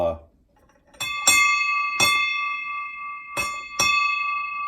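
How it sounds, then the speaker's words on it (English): A ship's bell is struck five times in irregular pairs, each ring sustaining a clear metallic tone that rings on between strikes, loud and close; a brief voice is heard at the start. "We have one of the ship's bells from,"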